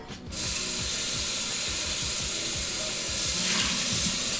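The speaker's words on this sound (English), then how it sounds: "I'm just gonna rinse out our pot" A pot is rinsed under a running kitchen tap, the water rushing steadily and fairly close, with rhythmic metallic clattering as the pot is moved about.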